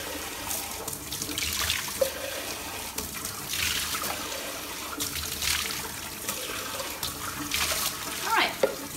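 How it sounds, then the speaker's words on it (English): Water rushes and splashes while rinsing out a jetted bathtub, a steady close wash with surging bursts and gurgles through the whole stretch. "Just rinsing right now."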